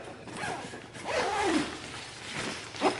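A bag zipper is pulled open in a couple of quick, close strokes, the last one short and sharp.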